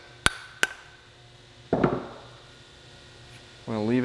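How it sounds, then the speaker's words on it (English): A hammer taps a wedge into an axe handle while an axe head is hung: two sharp close taps, then a heavier knock, with a voice at the end. "Get this wedge started by tapping it down."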